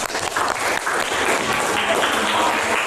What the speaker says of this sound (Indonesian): jika tidak ada, kita beri aplaus.